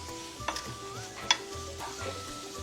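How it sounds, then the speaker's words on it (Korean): Cabbage stir-fries in a pan with sesame oil, green chilli and scallion, a soft sizzle under light stirring and a couple of sharp utensil clinks, quiet and close. "이때 참기름 큰 썰에 가볍게 볶아주세요."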